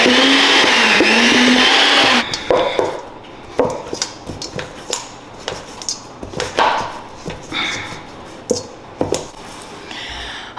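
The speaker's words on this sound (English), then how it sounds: "I'm gonna try to use my machine mixer" A machine mixer whirs loudly at first, likely kneading dough for a Beetlejuice-themed dinner, then cuts off, leaving scattered knocks, clicks and handling noises with quieter gaps.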